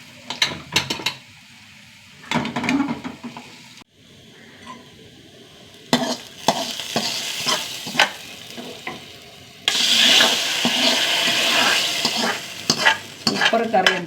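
Onions frying in a pan for a simple Kerala curry, with asafoetida added near the end: crackling sizzle broken by repeated scraping stirs, with a quiet lull and then a louder, denser burst of frying.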